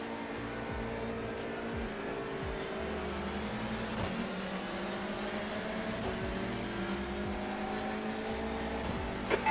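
Touring car engines from a standing start at Interlagos in the iRacing game drone steadily throughout, with harmonic engine tones and pitch shifts as cars accelerate together, a continuous moderately loud mechanical roar with no talk.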